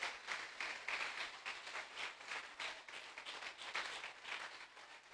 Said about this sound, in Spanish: Si vas a aplaudir, aplaude.